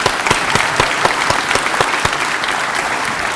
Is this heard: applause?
yes